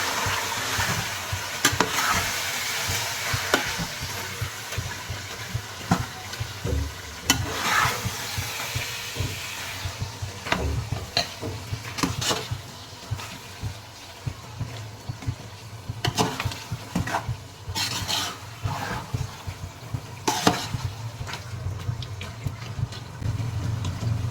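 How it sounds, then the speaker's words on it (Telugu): Chicken biryani mixture being stirred in a pot, with scraping strokes and a steady sizzling background, continuing for about 24 seconds without talk. "మొత్తం బాగా మిక్స్ చేసుకోవాలి"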